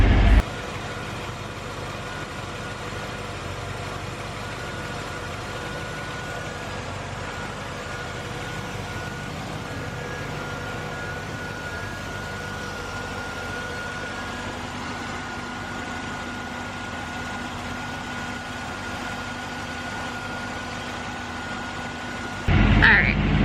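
A 1969 Jeep M715 military truck engine runs steadily at idle, heard from inside the cab as a constant low droning rumble, with louder thumps at the very start and end.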